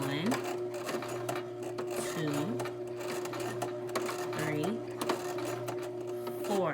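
A Brother LX2375 sewing machine stitches a buttonhole slowly, each stitch a short rising motor whir with a mechanical clatter, repeating about every two seconds while a person talks over it.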